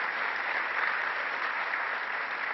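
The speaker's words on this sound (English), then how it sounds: "Let's give them a round of applause." Loud, dense applause from a crowd at a public event in Gloversville honoring assembly members and senators, a continuous even roar of clapping with no gaps throughout.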